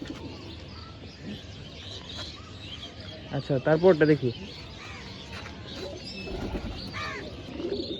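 Pigeons coo in a loft, soft throaty calls rising through the background with a short burst of chirping in the middle, while people talk over them throughout.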